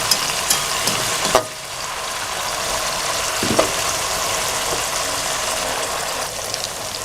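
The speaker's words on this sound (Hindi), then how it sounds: "थोड़ा सा फ्राई करना है इसको ज़ीरे को" Cumin seeds and chopped tomatoes frying in a pan for karela chicken, a dense steady sizzle with a couple of sharp utensil knocks near the start and middle; no speech.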